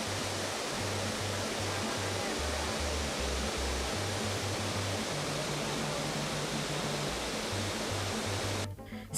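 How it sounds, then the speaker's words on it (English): Lumangwe Falls sends a thick, heavy curtain of water crashing down in a steady, unbroken roar, with faint low music-like tones beneath it. "This superb falls, with a thick and large curtain of heavily falling water"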